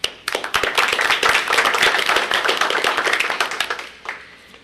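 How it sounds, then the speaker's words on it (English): Dense clapping from a meeting audience fills the room in a sustained round of applause, loud and even throughout before tapering off near the end; no one speaks over it. "I want to give you a round of applause."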